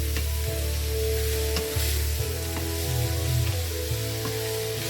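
Steady oily sizzling of rice stir-frying in a hot pan with opo squash, with occasional crackles and scraping stirs throughout.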